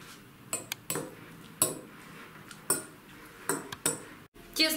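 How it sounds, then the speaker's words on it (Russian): A fork mashing and mixing grated hard cheese, chopped greens and an egg in a bowl for lazy khachapuri, with scattered close clinks and scrapes of metal against the dish. "И все надо хорошенько перемнуть вилочкой"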